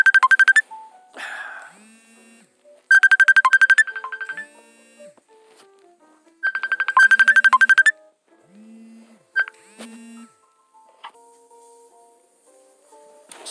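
A phone ringtone rings in three loud, bright bursts of rapid electronic trilling separated by pauses, with softer scattered tones in between.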